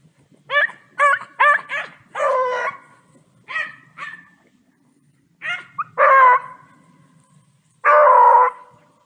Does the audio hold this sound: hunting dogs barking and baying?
yes